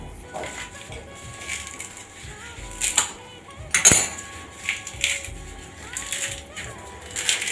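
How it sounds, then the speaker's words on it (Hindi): Metal dishes and utensils being washed and set aside by hand, clinking and clattering in irregular close bursts with a few sharper knocks, over a low background hum. "ये बर्तन धो के मैं साइड कर रही हूँ"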